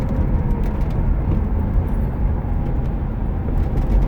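Road traffic in Northern Virginia near DC makes a continuous low rumble of passing cars and engines, steady and fairly loud with no clear speech.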